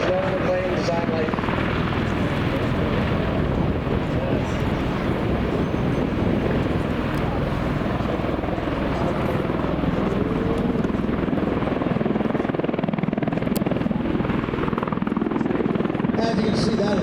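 A Marine MV-22 Osprey tiltrotor hovers during an air base demonstration, its rotors producing a loud, continuous heavy whump and roar of rushing air, steady and close throughout with wind buffeting the microphone.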